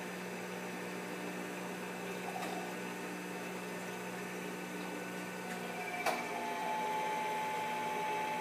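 A Norwalk 280 juicer running: a steady mechanical hum with a constant low drone and a faint electric whine, broken by a few small clicks and a brief squeak.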